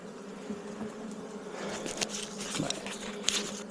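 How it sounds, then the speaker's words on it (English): Many honeybees buzz around an open hive in a soft, continuous hum close by, with occasional light tapping and rustling, and no voices. "there's more bees on this hive"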